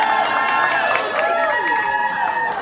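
Audience applause at a Purim Torah class, lively clapping mixed with crowd chatter and cheering voices, fairly loud and close, tapering slightly at the end.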